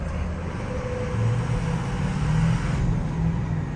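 A race truck pulls away in first gear, its engine giving a steady, close, low rumble that swells slightly as it accelerates, with no talking.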